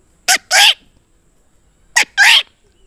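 A man imitates the calls of a green parrot with two pairs of short, sharp squawks, each a quick chirp followed by a longer screech, close and clear with silence between.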